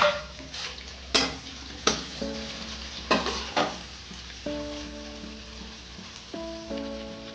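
Chopped onion frying in a pan, with soft sizzling broken by several sharp spatula scrapes and clinks as it's stirred, plus faint background music tones.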